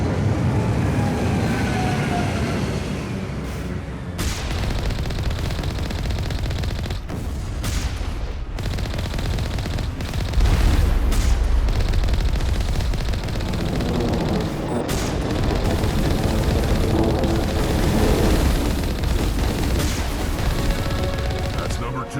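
Small arms fire from Geth enemies in Mass Effect, a dense, continuous barrage of shots and blasts layered over heavy battlefield rumble, sustained throughout with brief louder peaks.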